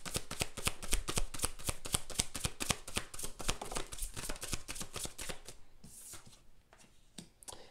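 Tarot cards being shuffled by hand in a rapid, even riffle of crisp flicks that slows and thins out toward the end, close and fairly quiet, with no voice.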